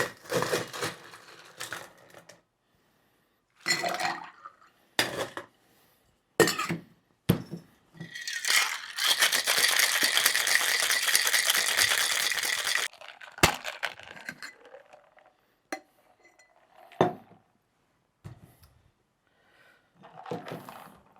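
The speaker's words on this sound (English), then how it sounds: "let's put some ice in there and give this a shake" Ice rattles in a cocktail shaker as a purple fruity mocktail is chilled: scattered clinks and taps come first, then a sustained burst of vigorous shaking for several seconds, followed by a few sparse knocks, close and without talk.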